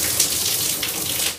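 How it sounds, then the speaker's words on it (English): Water gushing steadily from a bath fountain filler in a newly installed bathroom, a continuous bright splashing rush heard alone for about a second and a half before tailing off. "And then there's a fountain."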